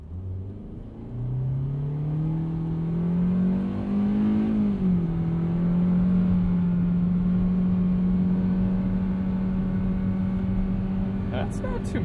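A 2020 Hyundai Venue SEL engine pulls under acceleration from inside the cabin, its steady hum climbing in pitch, dipping briefly at a simulated gear shift, then holding a sustained drone for several seconds.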